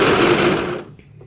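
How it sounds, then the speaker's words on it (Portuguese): A sewing machine stitches a small pet dress, giving a short, fast, loud burst of needle chatter that stops abruptly, close up with no talking. "Baixei aqui o calcador e vamos costurar."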